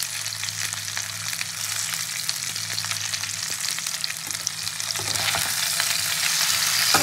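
Vegetables fry in hot oil with tempering spices, salt and turmeric, giving a steady close sizzle broken by scraping strokes of stirring that grow slightly louder toward the end, with no talk.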